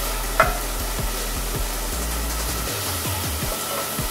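Onions frying in a pan for a vegan chili, a steady close sizzle with a sharp clatter near the start and a low background hum underneath.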